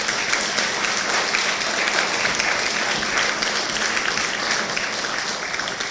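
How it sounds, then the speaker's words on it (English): An audience at a mayor's State of the City address in Mount Vernon breaks into sustained applause, a loud, dense wash of many hands clapping that holds steady and eases slightly at the very end. "That deserves a round of applause."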